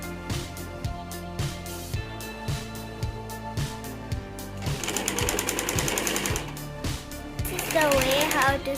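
A sewing machine stitches sleeves onto a shirt from the inside, its needle thumping in a fast, even rhythm up close that grows busier and louder toward the end.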